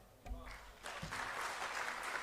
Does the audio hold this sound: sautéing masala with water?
no